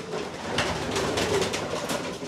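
Blue pied homing pigeons cooing in a loft, a steady murmur of soft coos close by with faint rustling and no talking.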